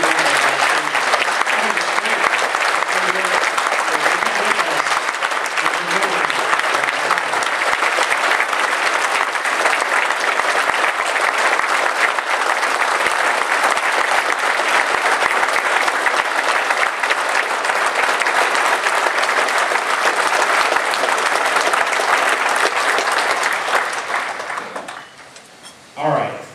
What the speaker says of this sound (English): So we can just give them a round of applause.